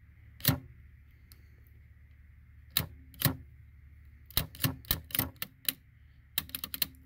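Keys pressed on a vintage Remington Rand adding machine give sharp mechanical clacks, first single strikes spaced apart, then a quicker run of clustered presses near the end, close and crisp against a faint background hum.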